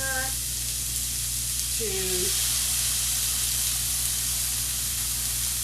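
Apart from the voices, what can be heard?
apple cider vinegar added to a hot pan, sizzling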